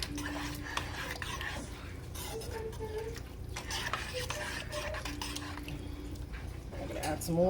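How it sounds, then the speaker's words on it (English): Chili with tomato sauce being stirred in a pot, a steady scraping and sloshing that runs throughout at close range with a faint sizzle underneath and a soft background hum. "Give it a good mix."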